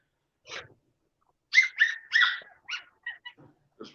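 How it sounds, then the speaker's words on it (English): A dog whimpers and yips in a series of short, high, whining cries, fairly close and loud against an otherwise quiet background. "Do you hear that dog?"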